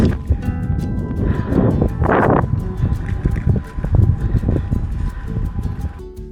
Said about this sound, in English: And it's so windy right now.